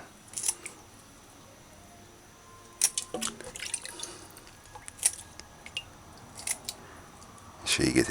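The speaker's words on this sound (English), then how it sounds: "use a food scissors and cut the toes off" Food scissors snip the toes off raw chicken feet for a curry, giving scattered sharp clicks and crunchy cuts at irregular intervals, close and moderately loud, with a wet, squishy handling noise near the end.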